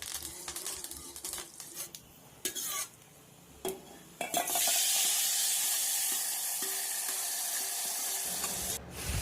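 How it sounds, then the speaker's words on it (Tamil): Mustard seeds, red chillies and curry leaves hit hot sesame oil for temple-style puliyotharai, a few clinks and stirs giving way to a loud, steady close-up sizzle. "கடுகு போட்டுட்டு ரெட் சில்லி இதில் ஒரு 2 சில்லி ஆட் பண்ணிவிட்டு அதுக்கப்புறமா கருவேப்பிலை ஆட் பண்ணிக்கோங்க"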